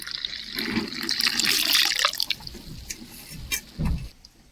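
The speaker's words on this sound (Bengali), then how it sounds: "এখন আমি একটু ছেঁকে উপর থেকে জলটা নিয়ে নেব" Water is strained off boiled leafy greens, pouring and splashing into a vessel in uneven gushes, then trailing off into scattered drips and a final spill.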